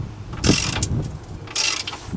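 A wrench breaks loose a Subaru suspension bolt, 22 mm on the bolt side with a 19 mm nut, giving two harsh, close metallic ratcheting bursts separated by a short pause.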